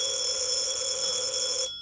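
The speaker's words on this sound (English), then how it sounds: "Oh, let it ring. Let it go on ringing." A telephone rings steadily in a radio drama, a continuous bright electric bell tone lasting almost two seconds before cutting off abruptly, heard alone without talk.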